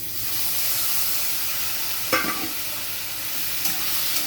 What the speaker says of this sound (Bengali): আমটা দিয়ে আমি একটু নাড়াচাড়া করে নেব